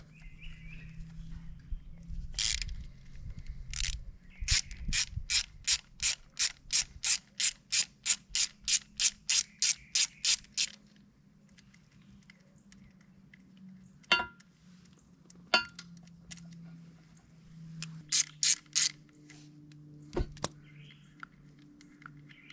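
A ratchet works bolts loose on the foot brake side of a 2023 Honda Grom during an oil change. Several fast bursts of crisp, close clicking are separated by quiet pauses, with occasional metal clinks and no talk.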